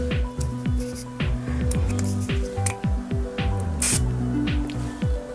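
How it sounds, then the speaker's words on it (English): Misguided Superfix setting spray spritzes onto a makeup soap in short, close hissing bursts repeated several times over soft background music. "I'm then going in with my soap and just spraying a setting spray."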